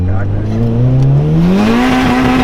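A turbocharged Honda Civic on a dyno: the engine revs loud and close, its pitch climbing steadily through the pull, with voices reacting in the background.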